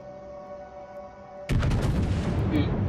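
Battleship turrets fire in World of Warships, a sudden heavy blast of naval gunfire halfway through that rolls into a loud, rumbling sustained boom after a quiet, humming lead-in.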